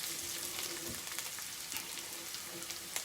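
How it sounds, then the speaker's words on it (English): Chilies, ginger and garlic fry in a pan with curry leaves nearby, giving a steady, dense sizzle with faint crackles throughout, close and even, with no talking. "Okay, and just want to let that all fry off."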